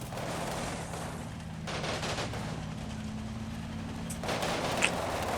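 Machine gun team firing in Combat Mission Final Blitzkrieg, a steady stream of distant automatic gunfire running through the whole stretch, with bursts layered over a constant low battlefield rumble and no talk.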